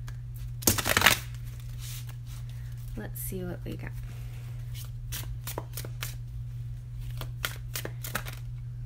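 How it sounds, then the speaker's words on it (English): Tarot cards being shuffled during a love reading: a loud burst of riffling near the start, then a series of soft, quick card taps and slides, with a person speaking briefly in between. "Shuffle again."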